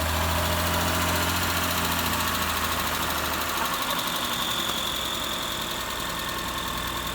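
Mitsubishi Eclipse engine idling with a light valve tick, a steady loud close rumble with a fine rapid ticking rhythm running through it, no talking.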